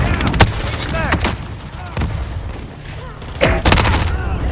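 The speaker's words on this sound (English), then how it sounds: "They're shooting!" Gunfire in Call of Duty: Modern Warfare during a Hardpoint match: loud bursts of rapid shots and bangs over a constant din of game sounds and voices.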